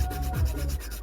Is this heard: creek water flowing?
no